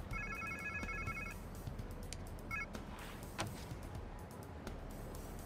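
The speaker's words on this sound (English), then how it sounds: "Sounds like somebody's phone." Electronic phone ringtone in the Spiderman 2 video game, a few faint repeated high chirping rings at the start and again briefly later, over low background rumble.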